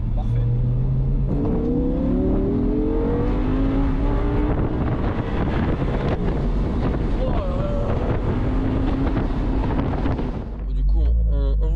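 An Audi R8 V10 Spyder accelerates hard with its engine note climbing through the gears, heavily buffeted by loud open-top wind rush close to the microphone, before the roar cuts off near the end.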